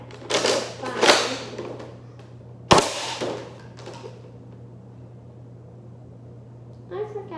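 A Nerf gun fires indoors: a couple of soft mechanical clacks, then one sharp, loud snap of the shot, followed by quieter rattling handling noise over a low steady hum.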